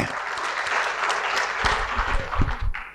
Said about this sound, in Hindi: इसलिए एक बार अपने लिए ताली बजा लीजिए।